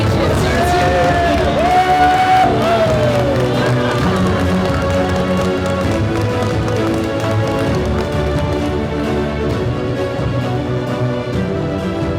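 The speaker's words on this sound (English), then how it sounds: "them a big round of applause one more time" A gala crowd applauds and cheers for the Hispanic Woman and Man of the Year award winners, loud dense clapping with whoops over tonal background music, sustained the whole way with faint voices mixed in.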